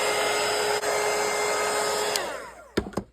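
A hair dryer blows steadily on watercolour paint, a loud continuous airy whir that runs for about two seconds, then winds down and cuts off, followed by a couple of faint knocks.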